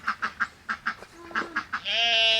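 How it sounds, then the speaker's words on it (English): A duck quacks in a quick series of about ten nasal calls, close by and fairly clear. A higher, sustained squawk or bleat follows at the end. "See that duck?"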